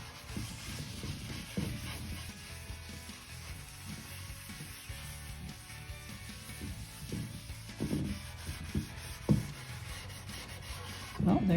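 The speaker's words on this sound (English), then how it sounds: "Just kind of scrub the oil in with a steel wool." Steel wool scrubbing oil finish into a cherry wood bowl, a soft continuous rubbing and scratching close by with occasional faint knocks, fairly quiet throughout.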